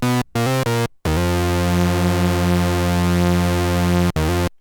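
Behringer Model D analog synthesizer playing a 90s R&B new jack bass patch with the second oscillator slightly detuned: a few short stabs, then one long, steady, buzzy bass note with a gentle beating, ending in another brief stab.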